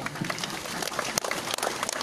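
A fairly faint, crackling patter of audience clapping at a Malaysia Day speech event, many hands blending into a busy, uneven rattle.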